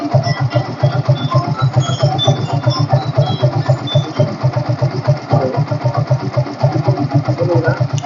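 A 2015 Yamaha FZ motorcycle engine idles steadily up close, with a fast, even pulsing throb that holds for the whole stretch and no voices over it.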